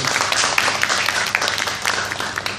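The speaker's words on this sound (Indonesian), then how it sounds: "tepuk tangan juga untuk Citi" A crowd at a community clean-up event in South Manggarai claps together, a busy spread of hand claps with some voices mixed underneath.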